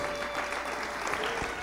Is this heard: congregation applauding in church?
yes